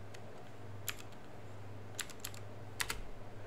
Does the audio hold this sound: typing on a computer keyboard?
yes